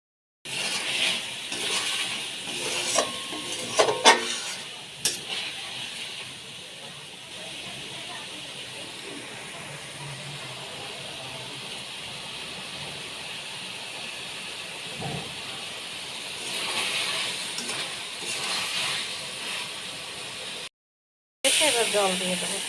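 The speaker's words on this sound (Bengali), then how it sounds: "মশলাটা ভালো করে কষিয়ে নেব।" Spice paste for a paneer curry fries in a pan with a continuous hissing sizzle, stronger at the start and again toward the end, with brief stirring clatter.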